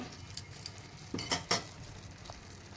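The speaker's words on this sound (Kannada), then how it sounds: "ಚೆನ್ನಾಗಿ ಇದನ್ನು ಟೊಮೊಟೊ ಮೆತ್ತಗಾಗೋ ತನಕ ಇದನ್ನು ಚೆನ್ನಾಗಿ ಬಾಡಿಸ್ಕೊತೀನಿ" Tomatoes sautéing with masala and water in a pan for a sponge gourd palya, giving a soft, low sizzle under a few sharp clinks and scrapes of a spoon stirring against the pan.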